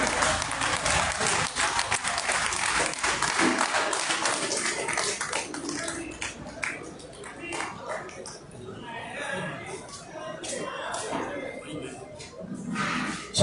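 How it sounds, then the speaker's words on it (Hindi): Audience at a formal meeting applauding to welcome a speaker: steady crowd clapping that is loud at first and thins over time, with speech and murmurs mixed in. "जोरदार तालियों से उपाध्याय जी का हम अभिनंदन करेंगे।"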